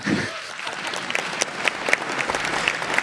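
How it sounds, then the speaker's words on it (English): Audience at the KotlinConf 2019 closing panel keeps clapping, a continuous crowd applause with individual sharp claps popping out near the microphone, sustained for a few seconds. "I was actually timing another minute of claps, so please continue for a little bit"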